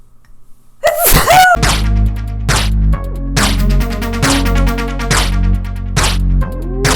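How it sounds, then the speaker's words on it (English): A single loud sneeze bursts out after a brief quiet moment, followed by sustained tonal sound with rhythmic thumps. "Oh, sneeze."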